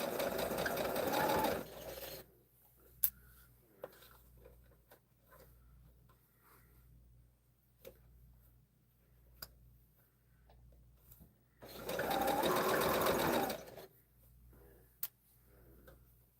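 A sewing machine stitches quilt block seams in two loud, steady bursts of about two seconds each, opening and closing the span, with quiet handling ticks and small clicks in between.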